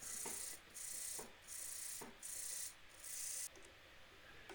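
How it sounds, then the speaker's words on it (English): Sandpaper rubs rhythmically against a turned fruit wood bowl spinning on the lathe, in about five close, even strokes with short pauses between them. "Now I'm going to sand this. I'm going to sand through the various grits."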